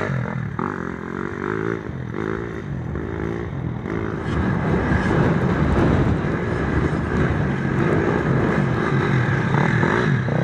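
Motocross bikes lapping a training track at Brookthorpe produce a steady, buzzing engine drone that swells louder midway and stays continuous, with no talking over it.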